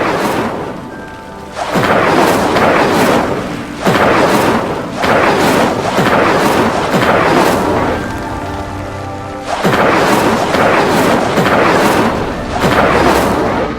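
The Incendio fire spell in Hogwarts Legacy lighting pyres, with repeated loud roaring whooshes of flame, each burst lasting a couple of seconds and separated by short dips in the rumble.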